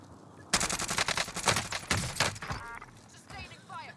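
Rapid automatic gunfire in Call of Duty Warzone (Cold War era weapons), a dense burst of loud shots from about half a second in, tapering off, with players talking over it.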